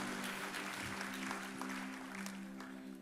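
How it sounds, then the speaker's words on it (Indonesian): Faint, distant church congregation clapping during a sermon, a continuous wash of applause over a steady low musical hum from instruments. "Berikan tepuk tangan bagi nama Tuhan."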